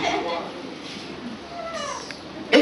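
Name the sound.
preacher's voice imitating a cat meowing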